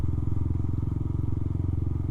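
A Yamaha Sniper 155R motorcycle engine with 35,000 km on it idles close by, a steady rapid low putter with even pulsing beats.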